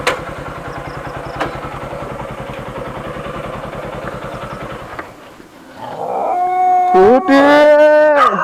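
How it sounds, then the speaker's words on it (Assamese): A dog at a house howls loudly and close up in long wavering rising and falling tones near the end, following a stretch of steady low engine-like rumble. "কুকুৰটো হাল্লা শুনিব কুকুৰটো হাল্লা কৰিব"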